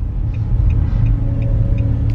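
A smooth-running car engine hums low and steady from inside the cabin while driving on the road, with faint regular ticks above the rumble and no talk.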